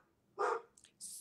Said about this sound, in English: I hear your dog vocalizing.